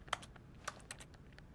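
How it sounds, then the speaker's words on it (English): Keyboard typing in the video game The Stanley Parable: a faint, irregular run of light key clicks against a soft background hiss. "Sounds like typing on a keyboard."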